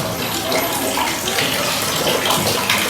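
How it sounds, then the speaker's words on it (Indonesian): Tap water runs steadily into a basin, a continuous broadband splashing gush at close range with no voices over it. "Di sini ada air yang menyala, jadi kita harus menutup keran air ketika kita tidak menggunakan."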